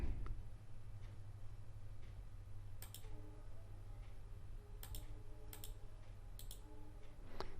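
A computer mouse clicks several times, small sharp isolated clicks in pairs and singles, faint over a low steady hum from the machine.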